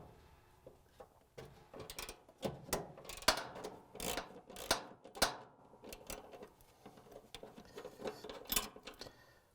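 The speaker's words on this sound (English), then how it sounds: "We're just going to use a 3/8" socket with a ratchet to take out the shoulder bolt." A 3/8-inch socket ratchet backs out the shoulder bolt of a dryer idler pulley, giving uneven bursts of close metallic clicking and clattering with brief pauses, loud and alone without talk.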